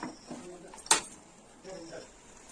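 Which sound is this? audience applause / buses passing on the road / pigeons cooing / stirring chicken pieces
stirring chicken pieces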